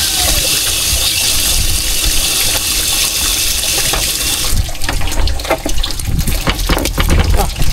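Steady rushing river water, loud and close, a continuous broadband gush that turns more splashy and choppy partway through.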